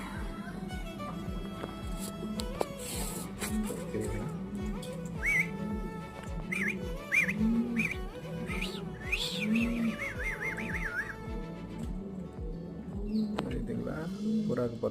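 Wild birds including mynas chirping and whistling around a feeding spot, a busy mix of near tweets and varied calls, with a voice talking throughout.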